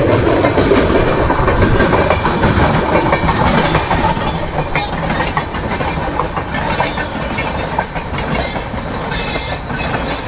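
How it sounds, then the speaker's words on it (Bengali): An Azimganj–Krishnanagar City passenger train on its first commercial run near the Nasipur rail bridge rumbles past loud and close, with a steady clatter of wagons over the rails and a faint squeal toward the end. No one speaks. "ট্রেন ছুটছে।"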